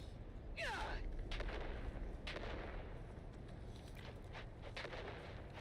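Grenade blasts and gunfire in a combat video game, a loud burst followed by scattered distant explosions and shots over a constant rumbling din.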